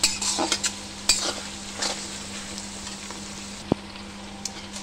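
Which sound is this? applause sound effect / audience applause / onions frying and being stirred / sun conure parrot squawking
onions frying and being stirred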